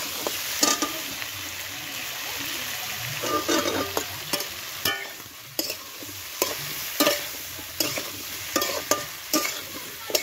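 Turmeric, chili and cumin powders being stirred in a hot frying pan, a spatula scraping in a regular rhythm of about one stroke per second over a continuous low sizzle, close up.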